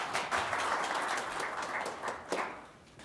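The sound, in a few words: forum audience applause for speaker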